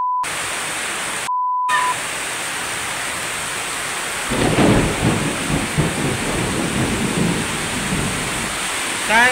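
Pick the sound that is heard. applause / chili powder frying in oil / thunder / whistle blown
thunder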